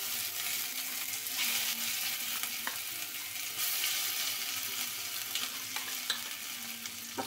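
Green pea kachori filling of ground peas with cumin and asafoetida cooking in a pan, a steady soft sizzle with occasional scrapes and clinks of a spoon stirring, close and continuous with no talk.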